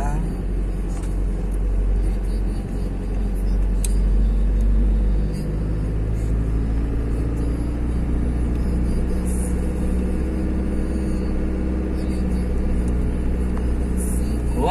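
Car climbing uphill in second gear on the road to a beach, a steady, loud engine drone and low rumble inside the cabin, with people talking over it throughout.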